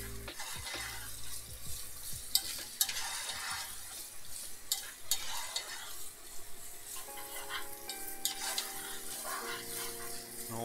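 Garlic fries in a pan along with rice and ground beef, a quiet, steady sizzle broken up by occasional stirring scrapes and clinks of a utensil against the pan.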